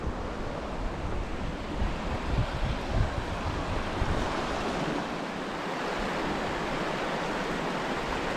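A river flows through a valley in a steady, full rushing roar that stays loud and close, with some wind buffeting the microphone and no voices.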